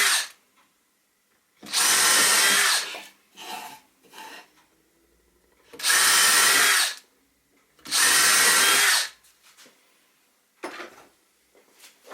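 A power drill drives screws into a wooden bird box, three loud whirring bursts of a second or so each, separated by quieter clicks and handling knocks of the wood and tool, close and with no talking.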